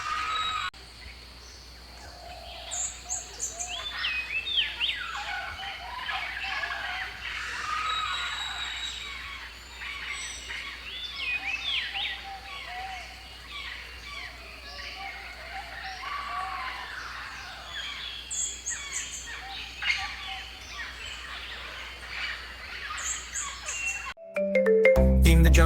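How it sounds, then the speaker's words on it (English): Chirping and tweeting birds in a jungle soundscape for a children's song, steady and moderately loud throughout, with faint layered calls and a soft low hum beneath, then a sudden change at the end. "Birds are singing songs galore."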